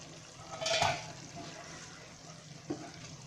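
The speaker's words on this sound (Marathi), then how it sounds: "आपण एकदा हलवून बघूया" A spoon stirs shahi mushroom masala in a covered pot on a home stove, giving one short wet scraping rustle early on, then a quieter stretch and a single soft knock against the pot, close and fairly faint with no talking.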